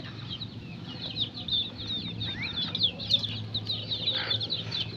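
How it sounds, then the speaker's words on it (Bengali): A flock of about fifty-four young chickens in a rearing pen, giving a steady chorus of high, thin peeping chirps that overlap continuously at moderate distance, with a soft flutter now and then. "চুয়ান্নটা মুরগির বাচ্চা আছে"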